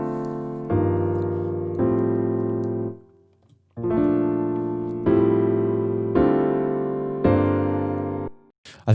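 An Ableton grand piano plays a rolled chord sequence ending, several sustained chords struck one after another with a brief pause midway, each ringing and decaying, close and clear with no talking.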